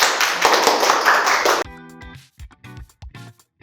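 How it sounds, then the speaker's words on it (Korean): An indoor audience at a sports psychology lecture applauds to welcome the speaker, a dense burst of clapping for about a second and a half that cuts off abruptly and gives way to a tonal jingle. "오늘 윤예은 멘토 박수로 부탁드리겠습니다"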